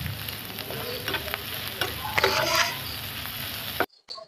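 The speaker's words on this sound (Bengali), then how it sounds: "প্রথমেই একটু পেঁয়াজ এবং কাঁচামরিচ কুচি তেলের উপরে দিয়ে নিচ্ছি।" Chopped onion and green chili sizzling in hot oil, a continuous close frying hiss with a few stirring scrapes, ending abruptly.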